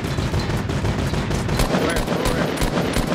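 Rapid, dense gunfire from a Fortnite match in a food-fight mode, a continuous fusillade of close shots running throughout, with a player's voice talking over it.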